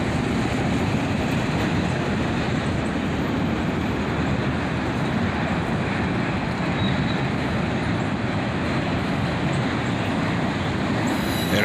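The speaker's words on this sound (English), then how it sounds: "This one's accelerating out of town on the main track, so he's going a little faster than the other ones we've seen." A CSX freight train accelerates out of town along the main track, a steady, loud rumble of rolling cars and wheel noise that holds without a break from start to finish.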